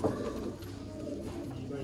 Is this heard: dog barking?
no